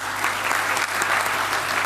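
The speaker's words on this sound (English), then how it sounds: "Ladies and gentlemen, a round of applause for them." Audience applause at a Ghana CEO Summit, a full, steady burst of clapping from a large crowd that stays even and close throughout the short stretch.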